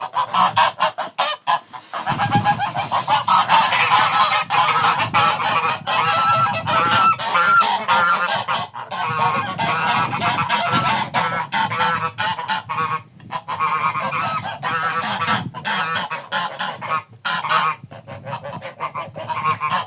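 A flock of geese honks loudly and continuously, many overlapping calls close by with no pause for the whole stretch.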